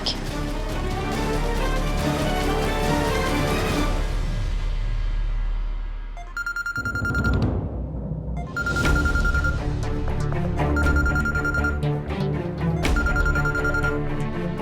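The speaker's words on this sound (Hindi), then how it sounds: "इबादत का फोन है" A telephone rings during a tense family scene in an Indian-Pakistani TV drama: repeated electronic ring bursts arrive in an even pattern over swelling background music.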